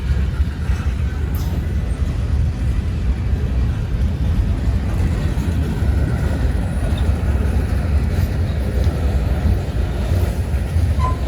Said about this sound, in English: I see the end of the train coming.